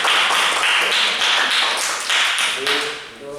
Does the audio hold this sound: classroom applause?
yes